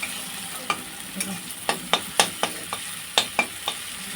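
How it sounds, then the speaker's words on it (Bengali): Chow mein vegetables with a little turmeric being fried and stirred in a pan, a soft sizzle broken by sharp spatula clicks and scrapes against the pan at an uneven pace, close up and without talk. "এগুলো ভালোভাবে ভেজে নেবো তারপরে চাউমিনটা দিয়ে দেবো"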